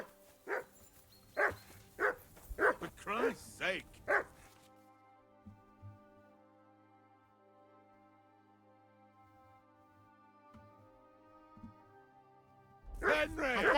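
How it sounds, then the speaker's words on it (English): A dog barks repeatedly in the game world of Kingdom Come: Deliverance 2, a run of about half a dozen sharp, close barks up front, then a quiet stretch with faint background before a voice cuts in at the end. "hear that damn dog of yours barking."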